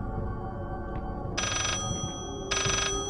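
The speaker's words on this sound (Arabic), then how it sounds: "ونرد على التليفون." A telephone ringing in the horror game Layers of Fear, two loud, close bursts of ringing about a second apart over a low droning ambience.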